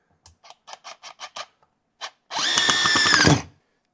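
A RIDGID NUKE 18V subcompact brushless impact driver sinks a 3-inch deck screw: a string of short trigger bursts, then about a second of loud, steady, whining hammering up close, with no talk.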